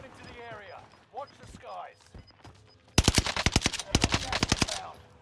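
Automatic gunfire in a video game fires in two rapid bursts, sharp loud cracks in quick succession with a brief gap between them, following a stretch of someone talking.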